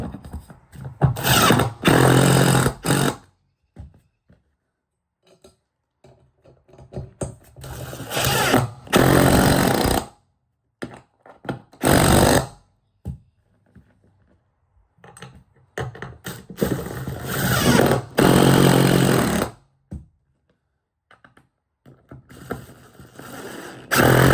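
A power drill runs bolts down into the floor of a Riverstone 42 FSKG toy hauler RV to mount a golf cart tie-down, in several loud whirring bursts separated by short pauses.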